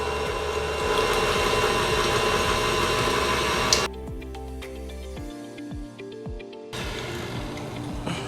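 A stand mixer churns ice box cookie dough at slow speed, a steady mid-pitched motor hum with rhythmic knocking that drops out partway, then a quieter stretch before the steady hum returns.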